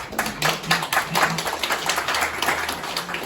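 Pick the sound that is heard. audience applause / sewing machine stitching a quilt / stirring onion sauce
audience applause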